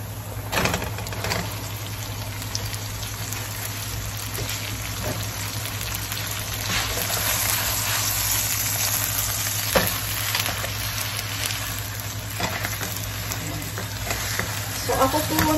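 Ground beef for lasagna fries in a pan with a constant crackling sizzle, broken by occasional scrapes and stirring sounds, close and steady throughout.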